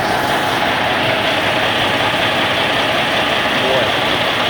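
A car engine idles loudly and steadily, with a continuous low rumble and broad mechanical noise filling the whole stretch, heard close up.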